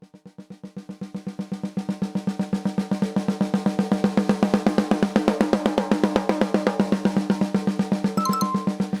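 Snare drum single strokes at a steady, comfortable tempo, starting very quiet, swelling to very loud and easing back down, with dense, evenly spaced hits throughout.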